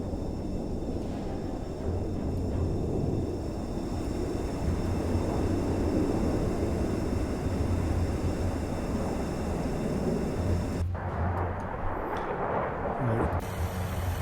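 A military aircraft flight rumbles in a naval combat game, a steady low jet roar that holds loud, then cuts sharply near the end, with faint radio-style voices underneath.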